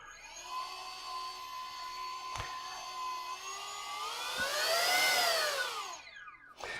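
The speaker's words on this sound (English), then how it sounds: "It boots up, sounds like it's running radio control components inside, and then you can actually turn it on and off." A Flywoo fan driven by a 2207 1750 kV brushless motor with a 25 amp ESC and a 3.5 inch propeller whines steadily up close, its tonal pitch rising and dipping as the speed changes, with a few clicks mixed in.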